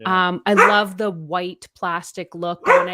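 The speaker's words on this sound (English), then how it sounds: "that's my dog" A timid pet dog named Rainy barks and yips near a door left slightly ajar, while a person keeps talking over the short, repeated barks.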